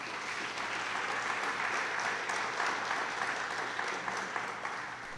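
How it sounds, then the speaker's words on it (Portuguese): A church congregation at a Sunday celebration service applauds, a dense, steady wash of many hands clapping that stays loud and unbroken from start to end. "Dá um aplauso ao Senhor por isso."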